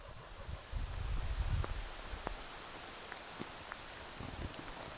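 Light rain pattering outdoors among trees at a hammock campsite in the woods, with scattered drops, a low gusty rumble early on, and soft rustling in the background.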